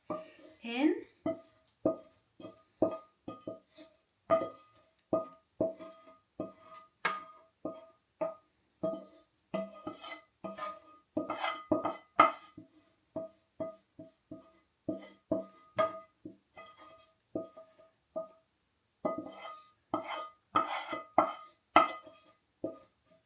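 Lasagne mince sauce being scraped out of a pan with a utensil, a quiet close run of repeated scraping and tapping strokes while a person talks between them.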